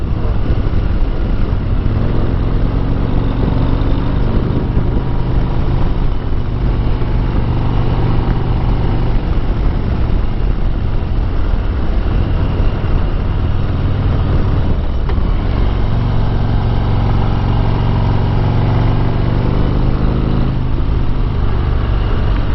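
A Harley-Davidson Street Glide motorcycle engine pulls hard while being ridden, a loud continuous rumble that rises and falls with throttle, mixed with road and wind noise.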